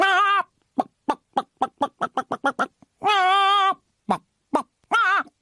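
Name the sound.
bird clucking sound effect in radio comedy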